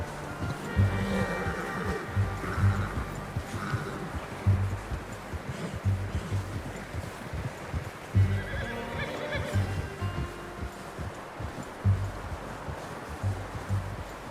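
Horse whinnying and neighing in the open-world western game Red Dead Redemption 2, loud and close, with repeated calls over a steady bed of rustling and hoof movement.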